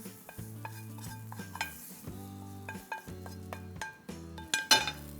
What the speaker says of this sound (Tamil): நல்லா மிக்ஸ் பண்ணிடுங்க.